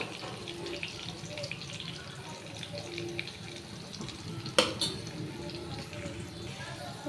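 Potatoes frying in a pan with turmeric and salt give a steady hissing sizzle as they are stirred, broken by one sharp clank of a utensil against the pan.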